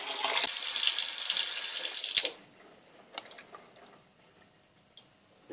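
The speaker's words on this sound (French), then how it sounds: "maintenant l'objectif c'est quand même de bien rincer tout ça, qu'il ne reste vraiment que les grains." Tap water runs hard over tomato seeds in a sink for about two seconds, a bright splashing hiss, then cuts off, leaving a near-silent pause broken by a few faint drips and clicks.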